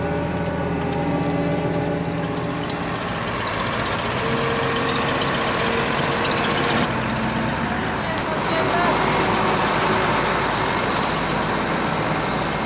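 A heavy Case IH tractor engine rumbles continuously nearby, idling and revving slightly during a trailer swap while potato planting, while people talk over it.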